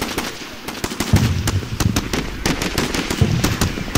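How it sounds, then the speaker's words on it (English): Called-in artillery support pounds enemy platoons in the war game Combat Mission: Shock Force. A rapid, irregular barrage of sharp cracks and thuds rattles on without pause over a rumbling bed. "so I call in some artillery support"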